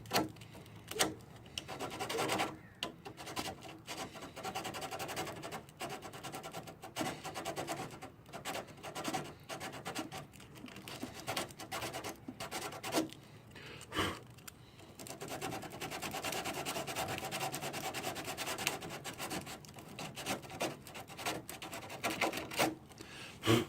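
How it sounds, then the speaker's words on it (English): A GY6 scooter body panel being sanded by hand, a steady close rasping rub with uneven strokes that runs continuously and alone. "It'll bond better actually too if you sand it."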